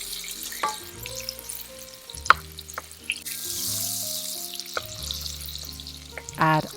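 Butter going into hot melted sugar caramel in a pan, with sharp clinks, scraping and stirring over a light sizzle, plus a short burst of running water near the end.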